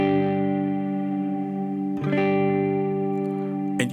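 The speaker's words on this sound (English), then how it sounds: "Now you have a legacy chamber reverb." A sustained electric guitar chord rings out through a Line 6 Helix Stadium legacy chamber reverb at small settings, with a roomy tail, then is struck again midway and keeps ringing, with another strum at the end.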